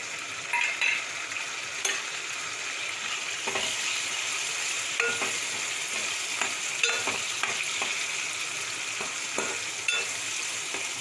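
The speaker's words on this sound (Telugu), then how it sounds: "ఇప్పుడు పచ్చిరొయ్యలు వేసుకొని ఫ్రై చేసుకోవాలి" Raw prawns fry with onions in a pan, giving a steady close sizzle broken by repeated scraping and clinking stirring strokes at an irregular rhythm.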